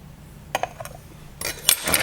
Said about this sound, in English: I'm going to mix them all together